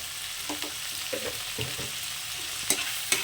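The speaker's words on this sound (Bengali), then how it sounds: "এবার এগুলো একসঙ্গে একটু ভালো করে মিশিয়ে নেব" Tomato, spices and salt are stirred together in a frying pan, a spatula scraping in soft irregular strokes over a constant close sizzle, with two sharper scrapes near the end.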